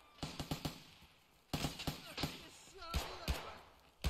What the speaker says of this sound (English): Oh, I hear gunshots, bro. That's me shooting.